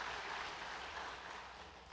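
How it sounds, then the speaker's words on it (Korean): A church congregation clapping together to congratulate a married couple, a dense, even wash of applause from a full room, fairly soft and continuous throughout. "우리 형병일 집사님과 이복희 집사님을 위해서도 우리 박수로 한번 축하하도록"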